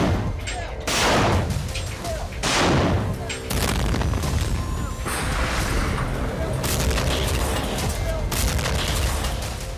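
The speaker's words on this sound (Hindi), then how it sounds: "डोनेट्स्क में रात के वक्त भी भारी गोलाबारी जारी है।" Heavy artillery shelling at night in Donetsk, with loud booming blasts and bursts of gunfire repeating across the whole stretch, some close and sharp, others rumbling further off.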